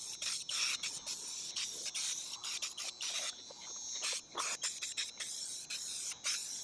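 Trim restorer sprays in repeated short hissing bursts from an aerosol can onto the exterior trim of a SAAB car. The bursts are close and fairly loud, with brief pauses between them and no talking.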